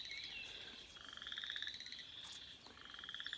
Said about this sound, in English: Listen to the frogs out there.